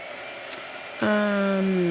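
A blow dryer switches on after a brief click and runs with a steady, loud whining hum, close by, with no talk.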